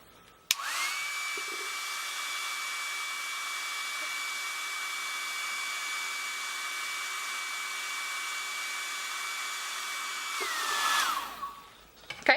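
A handheld heater blows hot air onto a Jamberry nail wrap, a steady whirring hum that switches on abruptly, holds for about ten seconds, then winds down, close and alone.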